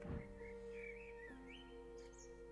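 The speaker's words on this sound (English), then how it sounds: "The birds were singing." Birdsong from the video game Lost Words: Beyond the Page: several melodic chirps and tweets, soft to moderate, float above a steady sustained musical drone with a brief low thump near the start.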